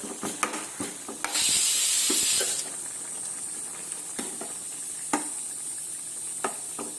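Minced mutton keema cooking in a pan as a spoon breaks up the lumps, with intermittent scraping stirs, a low sizzle underneath and a loud burst of hissing steam partway through, heard close with no speech.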